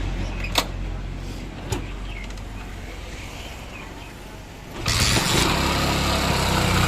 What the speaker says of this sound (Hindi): अब इसको स्टार्ट करके इसकी आवाज़ सुनते हैं